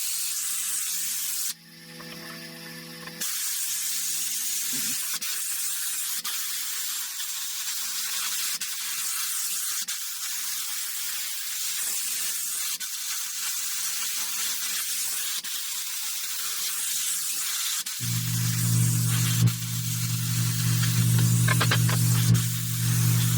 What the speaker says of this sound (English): So let me get on that with the plasma.